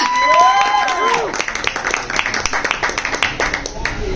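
Crowd applause for a stand-up comedian at a beer garden in Rishon LeZion: dense, close clapping that ripples unevenly for several seconds, with a whistle-like voice sweeping at the start and scattered voices beneath.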